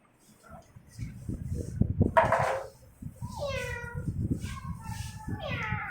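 A small cat in a street meows several times in a row, with rising and falling calls heard under a narrator's voice.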